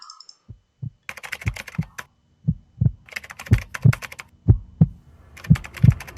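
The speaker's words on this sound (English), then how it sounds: "Okay, so now we have the typing." Keystrokes clack in uneven bursts, mixed with low thumping hits, like rapid typing on a keyboard, close and crisp with short pauses between runs.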